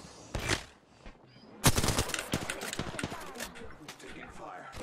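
Apex Legends gunfire breaks out with a loud opening burst, then a close stutter of automatic shots and scattered single reports, with a short lull before the main volley.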